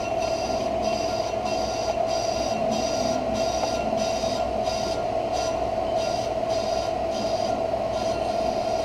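A brake lathe turns and cuts a hub-type brake rotor, giving a steady loud machine whine with a strong sustained tone and a rhythmic pulsing scrape from the cutting blades, continuous throughout with no talking.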